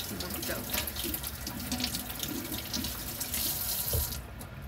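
Dishes are washed at a kitchen sink under a running tap, with a continuous splashing stream broken by clinks and water hitting plates.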